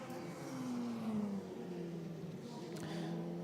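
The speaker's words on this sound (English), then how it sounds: "So the engines cut their way through the forest." Radical race cars at Spa-Francorchamps sweep through the forested stretch toward Blanchimont, engine notes whining and shifting pitch at a distance, faint under a commentator's voice.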